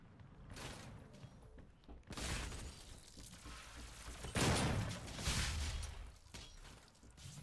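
A shotgun fires in the DOOM open beta shooter game, with a few sharp, loud blasts in quick succession over a busy backdrop of combat noise.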